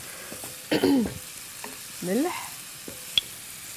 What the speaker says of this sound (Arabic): نخلط الماكله